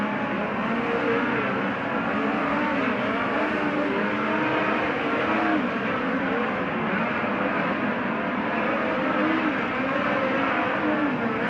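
Dirt-track sprint race cars throttle up together during hot laps, producing a dense, continuous, loud engine roar with no break across the stretch.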